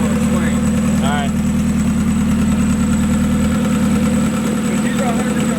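A damaged, blown car engine idles with a steady low rumble and a faint rhythmic pulse, running loud and continuous while it pumps out smoke.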